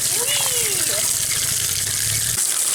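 Freezing-cold water runs loudly and steadily from a tap over an iced-up phone part, a dense close rushing gush, with a voice briefly heard over it.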